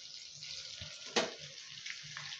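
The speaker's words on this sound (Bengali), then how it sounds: "কড়া কড়া করে ভাজবো যেন মুচমুচে ক্রিসপি টাইপের হয়" Crispy snack pieces made with semolina fry in hot oil, a continuous close sizzle with faint crackles and one brief louder splash-like burst partway through.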